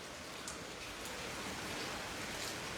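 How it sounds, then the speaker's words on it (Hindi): Heavy rain falling steadily in Jammu, mixed with hailstones, a dense continuous hiss with occasional sharper impacts, no voices. "ज़ोरदार बारिश सुबह से ही हो रही है और साथ ही साथ बारिश ही नहीं बल्कि ओले भी पड़ रहे हैं"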